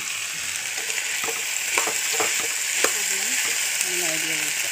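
A bottle gourd peel and baby potato stir fry sizzling steadily in a hot pan while a spatula stirs it, with scraping clicks over the constant frying hiss and faint talk in the background.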